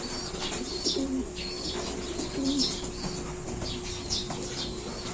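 Racing pigeons at a loft give soft repeated coos and chirps, along with a little wing movement, over a constant background hum.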